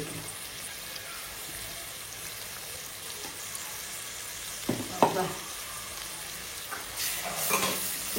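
Onion pieces fry in a pan with ginger-garlic paste, a steady close sizzle under occasional stirring scrapes and clinks that grow louder near the end.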